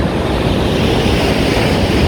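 Surf rolling onto a wide beach at low tide, a constant broadband wash of waves mixed with gusty wind buffeting, steady and fairly loud with no voices.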